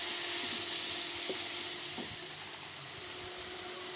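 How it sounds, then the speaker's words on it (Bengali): Bean seeds frying in a pan with salt and turmeric while being stirred, a steady close hiss of sizzling oil with a few soft knocks from the stirring utensil, no voices. "লবণ আর একটু হলুদ দিয়ে নেড়ে চেড়ে ভেজে নেব।"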